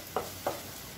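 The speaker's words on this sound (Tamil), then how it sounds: "இப்போ எல்லாத்தையும் நல்லா வறுத்துக்கலாம்" Two quick stirring scrapes in a pan over a faint, steady sizzle of spices frying in oil on low heat.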